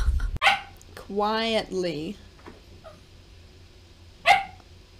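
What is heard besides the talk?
dog barking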